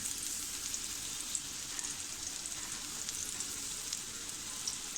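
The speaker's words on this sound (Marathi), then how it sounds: "आता आपल्याला हे मासे कसे मध्यम गॅसवरच फ्राय करायचे आहेत" Saundale fish fry in a pan over medium heat, a faint, even, continuous sizzle with tiny pops throughout and no speech.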